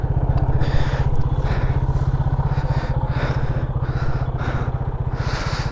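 A Yamaha FZ25 motorcycle's engine runs at a steady, loud idle. It throbs in an even, rapid rhythm with light mechanical clatter and no voices.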